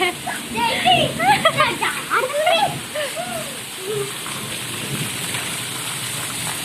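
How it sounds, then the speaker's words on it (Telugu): Rain falling outside as a steady, soft hiss of drops behind the close voice of someone talking for most of the stretch, the downpour continuing alone and even once she stops. "మమ్మల్నిట్లా ఓడుతుంది వాన"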